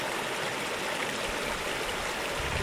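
A small mountain creek in the Wind River backcountry runs in a continuous, even rushing babble, moderately loud and close, with no voices.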